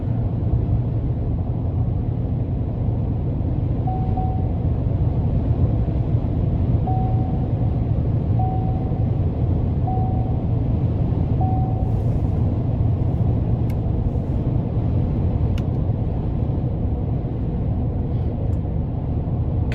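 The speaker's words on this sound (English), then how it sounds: "Cabin noise is very, very controlled, which I like." Steady low cabin road noise inside a 2020 GMC Sierra 1500 Denali 6.2 4WD pickup on 22-inch wheels while driving, a constant muffled rumble with faint tonal hints, continuous throughout with no talking.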